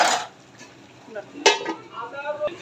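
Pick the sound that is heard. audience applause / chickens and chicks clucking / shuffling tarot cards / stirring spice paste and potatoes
stirring spice paste and potatoes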